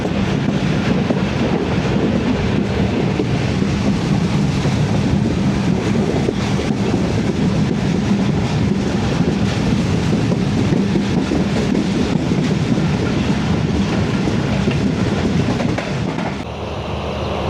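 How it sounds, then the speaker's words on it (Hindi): The Tezgam 8DN AC sleeper train runs from Lahore to Karachi as it takes a sharp curve, giving a loud, continuous rumbling roar of wheels on rails with wind buffeting. The roar eases slightly near the end. "ज़बरदस्त कर्व लेते हुए ट्रेन"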